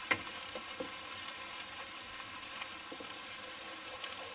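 Ginger garlic paste fries gently in oil for aloo keema, a soft, faint sizzle with a few light stirring clicks, quiet and steady with no talking.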